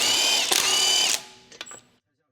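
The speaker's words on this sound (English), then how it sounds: "Use a 19mm deep socket with an electric impact wrench to remove the wheel hub bolt." Electric impact wrench fitted with a 19mm deep socket spins off a wheel hub bolt on a 2015 Ford Explorer: a loud, continuous rattling burst, a brief pause, another run, then a few quieter clicks as it stops.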